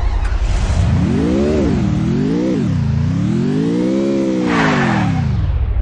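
A Lamborghini engine in the video game Free Fire revs loudly and alone, its pitch swooping up and down through several rising and falling sweeps before settling.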